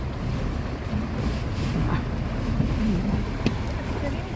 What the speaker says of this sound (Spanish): dentro del coche atravesando el río.